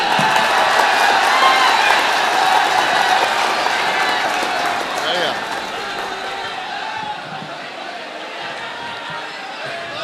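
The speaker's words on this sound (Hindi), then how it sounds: "अरे भाई एक बार जोरदार तालियां बजा दी।" A crowd at an All India Mushaira poetry gathering in Harra, Meerut, claps and cheers loudly and continuously, with voices mixed in; the noise drops partway through and trails off.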